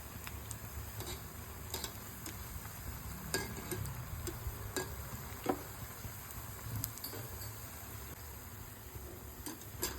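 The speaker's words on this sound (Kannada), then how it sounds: "ಇದನ್ನು ಉಲ್ಟಾ ನಾವು ಹಾಕಿ ಎಲ್ಲ ಕಡೆಗೂ ಒಂದೇ ಥರ ಕಲರ್ ಬರೋ ಹಾಗೆ ಅದನ್ನು ಫ್ರೈ" Banana kajjaya fritters fry in hot oil while being turned, a soft, quiet sizzle broken by scattered small crackles and pops.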